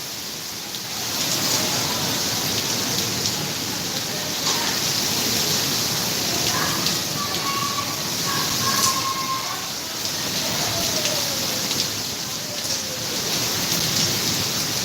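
A dense, steady hiss of heavy rain in Bathinda, Punjab continues throughout, with a few faint tonal sounds rising briefly in the middle.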